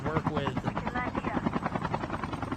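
Helicopter rotors chop steadily in a battle royale video game, loud and continuous under a commentator's voice.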